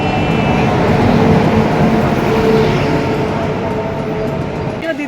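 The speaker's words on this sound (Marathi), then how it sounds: "प्लेटफॉर्म क्रमांक 2 वर पटना गाड़ी आ रही है." A train pulls into a railway platform with a loud, continuous rumble and rolling clatter that eases slightly near the end, and people's voices mix in with it.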